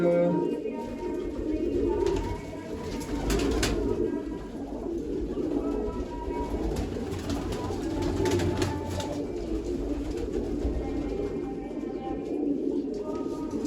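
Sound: pigeons cooing

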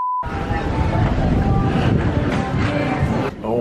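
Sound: breeze on the waterfront

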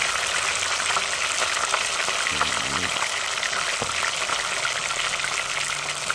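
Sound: frying fish in a pan

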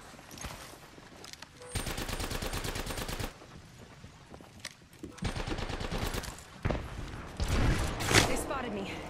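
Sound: gunfire from attacking squads in video game

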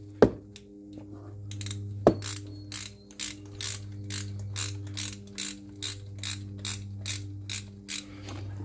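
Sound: ratchet with 13 mm deep socket loosening fuel rail stud

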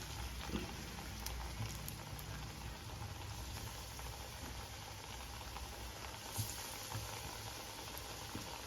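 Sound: vadas frying in hot oil in a pan

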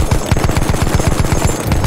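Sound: gunfire from a gun in the video game Battlefield 1

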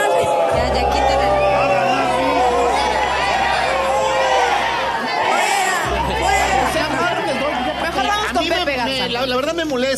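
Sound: audience applauding and cheering

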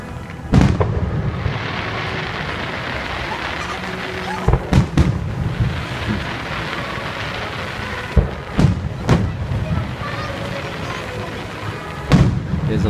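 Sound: fireworks exploding at Magic Kingdom, Walt Disney World

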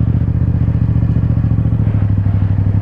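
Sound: motorcycle coasting with clutch in, then accelerating through turn

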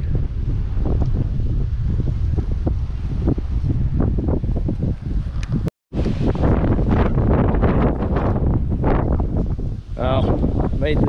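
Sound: strong wind

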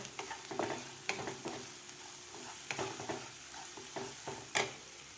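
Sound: stirring turmeric and coriander powder into fried masala paste

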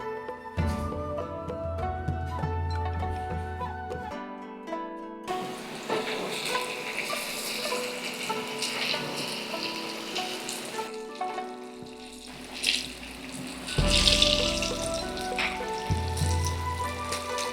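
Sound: battered chicken frying in oil

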